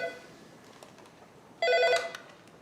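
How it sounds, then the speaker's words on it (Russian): A telephone rings with a bright electronic trill, one burst loud and near after a faint earlier ring, with no voices. "Телефон."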